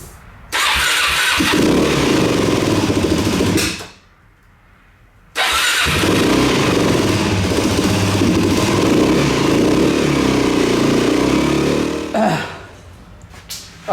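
A Suzuki DRZ four-stroke motorcycle fitted with a Lectron carburetor starts and runs with a loud, close engine roar, cuts out for a moment, fires up again and runs steadily before dropping off near the end.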